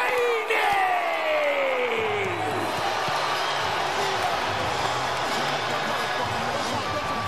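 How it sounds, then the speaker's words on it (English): A sold-out boxing arena crowd in Las Vegas roars and cheers continuously, a dense, loud wall of noise with whoops after a ring announcer's introduction, and a commentator talking over it. "This sold-out crowd is on fire. It is buzzing in here for Haney Loma"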